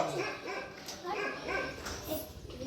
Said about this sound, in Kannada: ನಾಯಿದು ಬೊಬ್ಬೆ ಶುರು ಆಯಿತು.